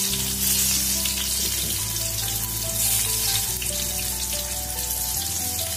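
Paneer fries in a little oil in a pan for a restaurant-style chilli paneer, giving a loud continuous close sizzle with a steady hum beneath and no voices.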